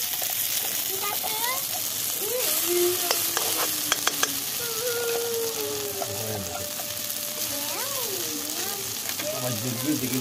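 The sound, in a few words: green pea paste frying in mustard oil in a wok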